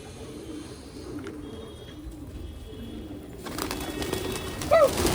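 Pigeons cooing during a pigeon-trapping hobby session, a steady low murmur that grows busier and louder near the end, with a brief sharper call.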